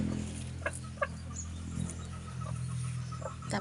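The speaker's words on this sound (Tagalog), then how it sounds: "mga manok namin." Chickens at a backyard chicken farm cluck in scattered, brief calls over a low steady hum, faint and without speech.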